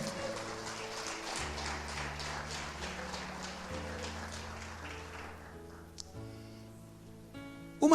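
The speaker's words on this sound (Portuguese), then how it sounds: "Aplauda o Senhor como igreja do Senhor." A church congregation claps during a worship service, a rhythmic patter of many hands over sustained keyboard chords, fading after a few seconds while the music carries on alone.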